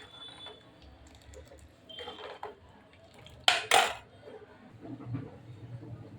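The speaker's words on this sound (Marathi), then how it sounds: "कढीला सारखं हलवत राहायचं, म्हणजे ती कढी फुटत नाही." A spoon stirs dahi kadhi in a metal pot, making soft clinks and scrapes, then one sharp loud scrape near the middle, followed by lighter stirring sounds.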